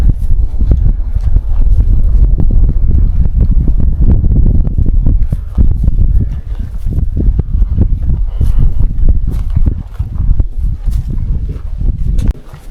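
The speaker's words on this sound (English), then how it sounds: "It's really windy up here." Loud, steady wind buffets the microphone on open grassland on a trail near Smith Falls in Valentine, Nebraska, a constant low roar with gusty rustling throughout.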